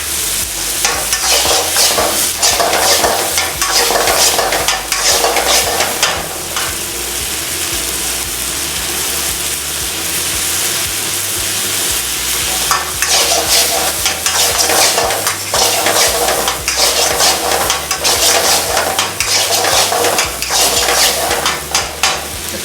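Mutton lollipop frying in sesame oil in a pan is stirred steadily, with continuous loud sizzling and repeated scraping strokes throughout, no voices.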